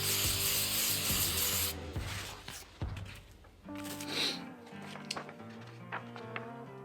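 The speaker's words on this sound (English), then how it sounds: "Lightly spray it to make things easier for yourself." A brief hissing burst of spray adhesive at the start, then quieter rubbing and handling noises as a pattern is glued down, with some faint tonal hum in the background.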